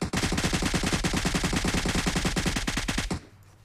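Rapid automatic gunfire in the mobile battle royale game PUBG Mobile, a loud sustained burst of evenly spaced shots for about three seconds that stops abruptly, leaving a faint tail.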